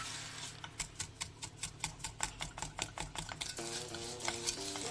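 A spoon scraping steadily through sugar caramelizing in a pan over slow heat for a butterscotch or toffee sauce, with regular clicking strokes at close range and a soft sizzle beneath, alone without voices.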